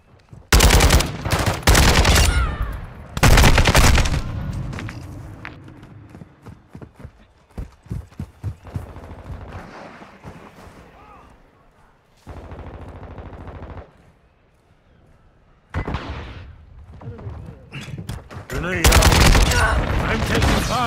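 Video game gunfire in Modern Warfare 2 team deathmatch: loud bursts of rapid automatic fire and single shots, broken by quieter stretches and distant pops, close and harsh.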